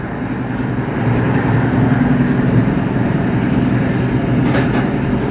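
The KA Taksaka express train rushes through Bekasi station at speed at night, a loud, steady, close rumble of wheels and carriages holding for the whole stretch with a faint clickety-clack.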